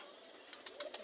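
A pigeon coos in a few soft, short bursts, faint and fairly close, with no one speaking over it.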